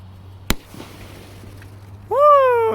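Firework shell set off in the ground, heard as a single sharp, loud bang over a low steady hum, followed by quiet and then a person's excited whoop.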